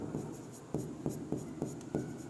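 Pen writing out a polynomial roots problem, a steady scratchy stroke texture with five distinct sharp strokes repeating roughly every half second, close and clear with no talking.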